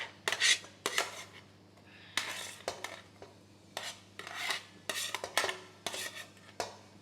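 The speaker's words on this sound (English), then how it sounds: "Let me add in the onion and then I'll mix everything together." Onion stirred into a pan with ginger garlic paste and peppers for a fish curry makes repeated scraping and clinking of a utensil against the pan in uneven bursts, close and clear over a low steady hum.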